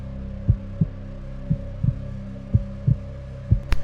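A heartbeat sound effect closes Kate Yup's video outro: steady paired thumps, about eight beats in under four seconds, low and booming over a soft sustained hum, with no voices.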